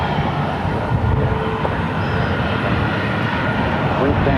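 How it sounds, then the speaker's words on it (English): A Southwest Airlines jet at Phoenix Sky Harbor airport gives off a steady, loud, broadband engine roar that holds unchanged throughout, with faint talk beneath it. "So that's a Southwest flight to somewhere."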